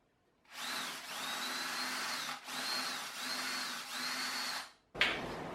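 A power drill enlarges a hole in a wooden summer seat, running loud and close in four steady bursts with brief pauses between them, then a short sharp clatter at the end.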